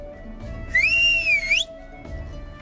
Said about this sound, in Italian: Un fischio ben modulato e le pecore si lanciano a rotta di collo verso la mangiatoia.